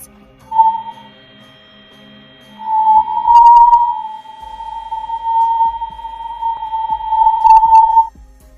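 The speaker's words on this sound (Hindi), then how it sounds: "यह तीसरी ऑडियो हाई चार्ज पार्टिकल में होने वाले बदलाव की आवाज है।" A recorded sound of the Sun, said to come from changing high-charge particles: a loud, steady whistle-like tone, first brief, then held for about five seconds with faint wavering, alone.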